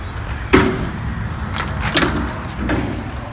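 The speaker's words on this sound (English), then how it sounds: "We're going to go in our front door here." The front door of a 1950s house opens with a sharp latch click followed by a metallic rattle and a few softer knocks as it swings, heard close up.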